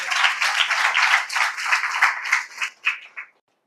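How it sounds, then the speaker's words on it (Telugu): A church congregation claps together in a dense burst of applause that thins into a few scattered claps and stops abruptly near the end. "చప్పట్లు కొట్టి దేవుని మహిమపడతాం."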